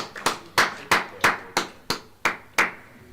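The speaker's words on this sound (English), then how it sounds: "Hope your ears are all right with the clapping, all our listeners" Spectators clap in sharp, separate bursts at a golf croquet championship match, about eight crisp claps spaced roughly a third of a second apart, close and loud with no talk over them.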